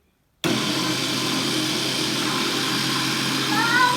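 A blender mixing a strawberry smoothie whirs steadily and loudly after a sudden start, a continuous motor roar throughout.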